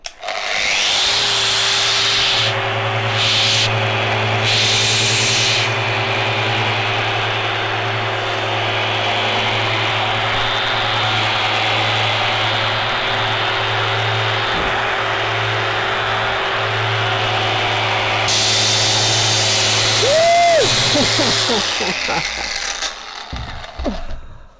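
A Bosch GEX 150 Turbo orbital sander runs steadily against a varnished wooden surface, a loud continuous motor hum with rough abrasive rasping, briefly pitching up and winding down near the end.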